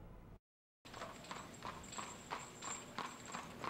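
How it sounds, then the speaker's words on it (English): Horses' hooves clip-clopping along a street in Lexington, Virginia, a steady even rhythm of hollow knocks at moderate distance, following a brief silent gap. "You know you're in Lexington when you hear the clip-clopping of horses' hooves."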